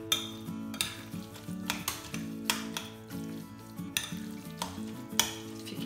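Carrot tarator is stirred in a pan, giving a soft steady scrape and light sizzle with repeated utensil taps against the pan at a relaxed pace. Nobody speaks.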